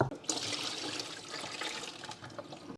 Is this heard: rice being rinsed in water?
yes